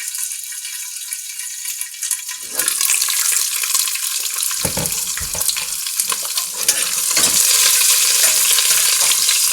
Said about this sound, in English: We are waiting for the chilies to get fried.